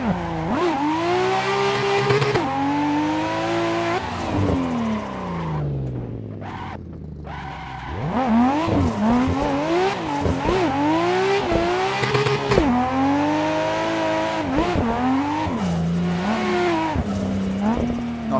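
Nissan Skyline drifting along a narrow track, its engine revving up and down in repeated surges with tyre squeal through the slides and one brief lull midway, loud and close throughout.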